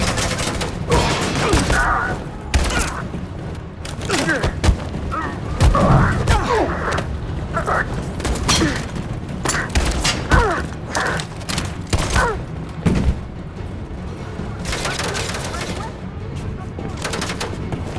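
Rapid bursts of gunfire and heavy thumps rattle through a battle scene in Detroit: Become Human, loud and continuous for the whole stretch, with shouted voices scattered among the shots.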